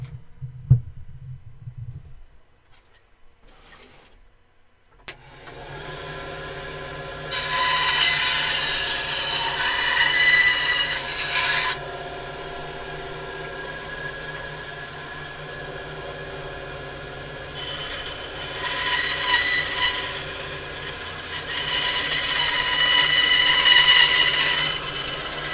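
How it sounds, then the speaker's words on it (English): Bandsaw cutting a part in a workshop: quiet handling noises and then the saw starts up into a steady loud drone, with two bursts of harsh, bright cutting noise as the blade bites. "I'm just going to run this part through the bandsaw really quick"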